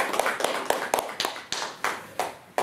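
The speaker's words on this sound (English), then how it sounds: "Let's give them a round of applause." Audience members clap for volunteers after a classroom physics demonstration about slits. A few close, distinct claps are spaced irregularly over a couple of seconds, with no one talking.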